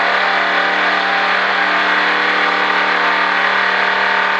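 A car holds steady throttle on the Daytona Speedway oval during a driving-experience session, its engine a loud, constant roar with road and wind noise throughout and no pauses.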